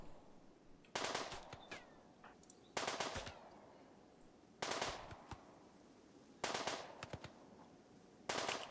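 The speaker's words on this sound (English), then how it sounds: "Bit of shooting practice, if nothing else." Gunfire rattles out in the Rimworld video game as colonists shoot at an insect hive, with five sharp bursts of several rapid shots each, spaced about two seconds apart, every burst trailing off in a fading echo.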